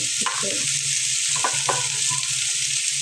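Chopped onion sizzling in hot oil in a pan with green chilli and ground spice paste, a steady close frying hiss with a few soft stirring scrapes.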